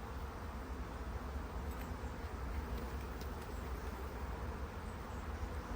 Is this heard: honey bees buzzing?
yes